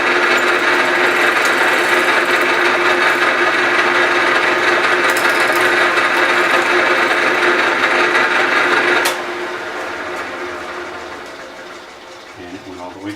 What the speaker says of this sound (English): Now we're going to continue on and drill all the way through the bottom.